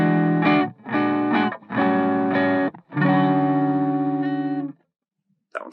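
Electric guitar run through a PolyEffects Beebo compressor and amp model into a Matchless Chieftain cab plays several distorted, aggressive chord stabs, loud and close, separated by short gaps before ringing out into silence.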